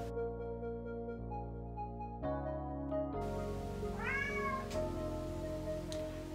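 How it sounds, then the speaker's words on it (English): A cat meows once at a closed door, a single rising call heard faintly beneath steady background music; no scratching is evident. "So they are at the door meowing and scratching."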